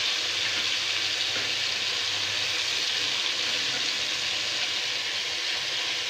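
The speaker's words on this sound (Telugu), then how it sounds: "ఇలా వేగిన తర్వాత పచ్చి తెల్లగడ్డలు వేసుకోండి." Chopped tomatoes with salt fry in a pan for chutney, giving a loud, steady, close sizzle that carries on unbroken with no talking.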